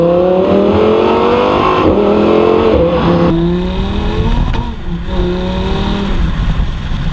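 An Audi R8 V10 Spyder engine revs loud and close, its pitch climbing in repeated sweeps, with a brief dip before it surges again, and no voices over it.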